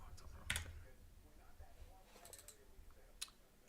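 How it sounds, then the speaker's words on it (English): Computer mouse clicking on a trading desk, a few sharp isolated clicks spread across a quiet room, one louder click early on and another near the end. "Sorry, I keep clicking on the wrong thing."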